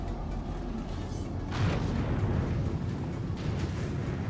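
Missile explosion destroying a target in the space game Star Citizen, a deep rumbling boom that swells midway and rolls on as a dense, loud roar without talk.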